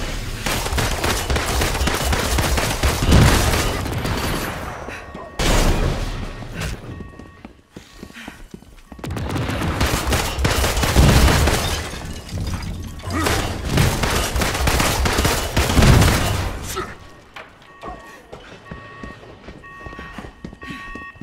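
Gunfire in Marvel's Avengers, with dense bursts of rapid automatic shots in several long volleys separated by brief lulls, loud and close, mixed with thuds and footsteps.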